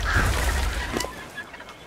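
Birds in the video game ARK: Survival Evolved squawk and honk in a short, busy burst over game noise, fairly close and loud.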